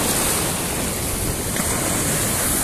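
Sea waves break and wash along the shore near Paiva beach, Recife, a steady, loud broadband surf roar that fills the whole stretch without pause.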